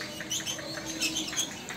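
Oriental magpie-robins (kacer) in the baby class sing at an Indonesian songbird contest, giving a dense, continuous wash of overlapping chirps and whistles over steady crowd and ambient noise.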